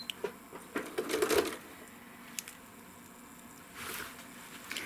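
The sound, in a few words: sewing machine stitching a swirl on a quilt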